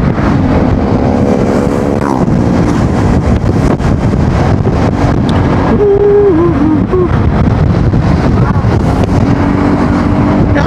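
A Yamaha XMAX scooter rides along a road, its engine hum steady and close beneath heavy, constant wind buffeting on the microphone.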